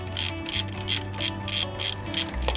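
Ratchet with a 10mm socket loosening transmission pan bolts on a 2006 Ford F-150: close, bright bursts of rapid clicking in a quick back-and-forth rhythm, alone without speech.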